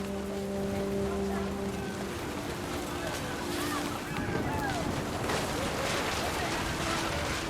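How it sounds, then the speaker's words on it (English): Heavy rain pours over a family camping tent in the game What Remains of Edith Finch, a dense, steady roar under a calm narrating voice. "Rain came down in buckets then"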